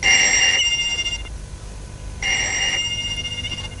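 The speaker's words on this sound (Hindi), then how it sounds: "प्लीज जाके फोन सुनो" A telephone rings in two loud electronic bursts, each lasting just over a second, with a brief quiet pause between them.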